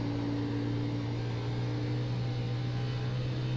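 In the iRacing video game, a race car engine at Charlotte Motor Speedway holds a steady, moderately loud drone as the revs shoot up over a bump, with no talk over it.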